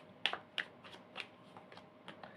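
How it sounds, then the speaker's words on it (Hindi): Tarot cards are drawn from a deck, giving a few quiet, crisp card flicks and slides spaced across a short, calm moment. No voice is heard. "पाइसेस आपके पार्टनर की कार्ड निकाल रही हूँ अभी यहाँ पे।"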